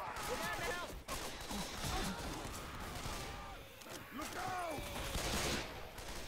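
Dense, continuous gunfire from Left 4 Dead 2, with bursts of shots crackling over a busy mix of game noise and shouting voices that carry through the whole stretch.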